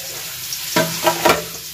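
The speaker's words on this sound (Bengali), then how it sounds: "আর এই যে আলু ভাজছি এখন" Potatoes fry in a pan, sizzling continuously up close, with a few distinct scraping stirs of a spatula over the hiss.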